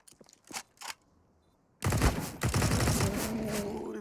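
Rapid bursts of gunfire in a Counter-Strike: Global Offensive match on Nuke, a few sparse shots giving way to a loud, sustained volley that continues through the rest of the moment.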